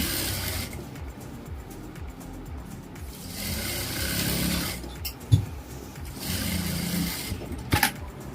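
A sewing machine running steadily while stitching a Patiala salwar, a continuous close mechanical whir with slight speed changes, a brief pause near the middle and a few small clicks.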